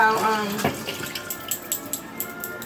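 Tap water runs steadily while food is rinsed in a kitchen sink, a soft broadband splash with a few light spattering bursts, fairly close.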